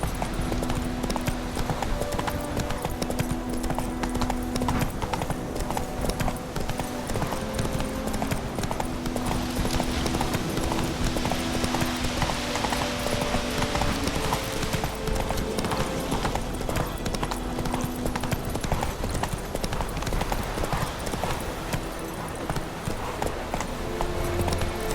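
Roach, Geralt's horse in Witcher 3, gallops with steady, loud clip-clop hoofbeats running the whole time under a dense game soundtrack, without pause.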